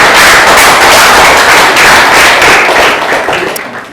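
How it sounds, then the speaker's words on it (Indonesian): Sustained applause from a lecture audience at the close of a class, dense clapping that holds loud and steady for several seconds before easing off slightly at the end. "Sebelum kita tutup, kita aplaus dulu untuk kita semua."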